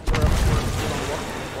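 A deep, booming ship cannon blast in Sea of Thieves, followed by a rumbling low decay, with speech faintly underneath.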